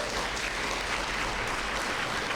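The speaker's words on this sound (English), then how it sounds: "can we have a round of applause for all of our candidates?" An audience applauds a group of community council candidates at a local meeting, with steady, dense clapping filling the room throughout, close and fairly loud, without voices.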